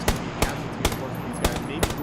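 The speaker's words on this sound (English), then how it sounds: "Meerkat taking those hot shots and leaving the CEO" Sharp gunshots from PUBG gameplay in a collegiate esports match, four or five loud separate bangs spaced about half a second apart over a steady game background.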